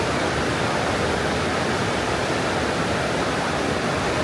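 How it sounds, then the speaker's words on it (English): A waterfall pours into a swimming pool of river water, a dense, steady broadband roar that is loud and close, with no pauses or voices. "It's really pretty, the waterfall going into it right here."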